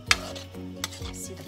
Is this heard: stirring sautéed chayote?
yes